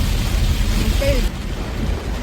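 Heavy monsoon rain pouring down in Lonavala with a deep, constant rumble of traffic underneath, a dense washing hiss throughout.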